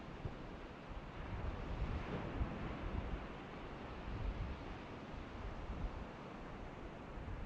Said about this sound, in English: I love ocean noises